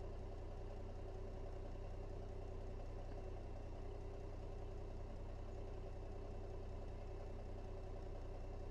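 A Peterbilt 388 wrecker truck idles with a steady, low droning engine hum, constant and unbroken throughout with no talk over it.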